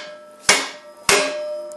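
A hammer taps a part onto a homemade electric pottery wheel built from a scrap washing machine. Two sharp metallic strikes land about half a second apart, each with a brief ringing decay, close and loud.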